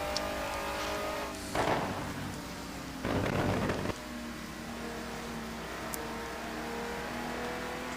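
GT1 race cars run through heavy rain toward Eau Rouge at Spa, a steady engine drone under loud hissing spray, with two bursts of louder wet rushing as cars pass close by.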